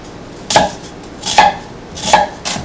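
A sharp kitchen knife slices through an onion on a cutting board, four crisp, evenly spaced cuts heard up close with nothing else over them.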